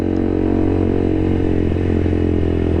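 A KTM RC200 motorcycle with an SC Project aftermarket exhaust idles and revs steadily with a deep, throaty exhaust rumble, loud and close, holding a constant drone throughout.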